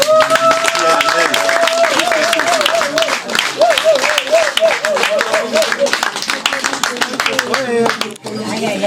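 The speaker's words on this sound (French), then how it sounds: "je vous demande tout simplement d'applaudir encore cette santé" Steady applause at an 80th birthday party runs throughout, mixed with a sustained tonal sound that wavers and repeats, fading near the end.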